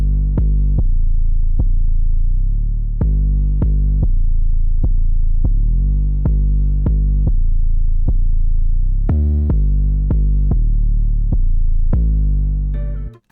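Deep, distorted 808 sub-bass notes pulse in a sliding, syncopated pattern, heavy and gritty, playing alone without drums, in a dark trap beat.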